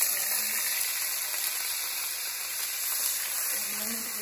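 Ginger and garlic frying in hot oil with cumin and carom seeds in a pan, a steady close hiss and sizzle running throughout without a break.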